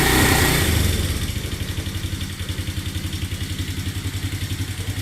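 A Paw Patrol kids' ride-on four-wheeler, its motor starting with a loud whir that settles into a steady, rapidly pulsing drone close by.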